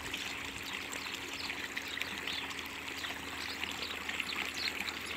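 Water gushes out of a pipe fed by a pump from a line about 14 meters underground, a loud, continuous rushing close by with no talk.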